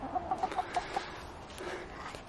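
A few soft, quick chicken clucks in a short series, fairly faint against a low background murmur.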